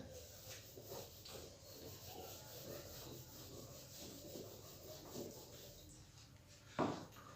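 Chalk writing being rubbed off a board with a duster, a steady run of soft scraping strokes in a quiet classroom, ending with a brief louder knock.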